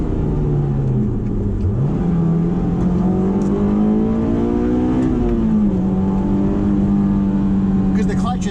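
A Honda S2000 with a manual gearbox revs its engine while being driven, a steady tone that climbs and settles under continuous road and cabin noise.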